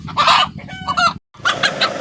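A black country hen clucks loudly and close by in rapid, throaty bursts, with a brief pause before a second run of clucking.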